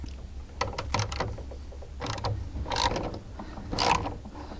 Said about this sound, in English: now we'll take the last 2 bolts out of the regulator and drop it out